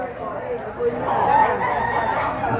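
A rooster crows amid the bustle of a Philippine cockfight, its call rising through a noisy crowd with people talking close by.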